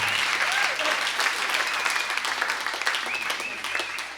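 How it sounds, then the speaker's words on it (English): Steady applause from a Nashville Sunday night concert audience, many hands clapping in a dense, even wash that stays fairly constant throughout, with a few whoops and voices rising faintly within it. "I do thank you for applauding"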